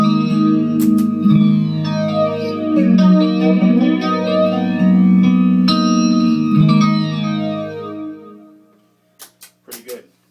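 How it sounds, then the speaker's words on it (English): An electric guitar runs through a Digitech IPB-10 iPad pedalboard with flanger, chorus and delay on. Sustained chords swirl and sweep with a metallic, echoing shimmer, then fade into a few short plucked notes at the end. "if I want to, I can click on the flanger."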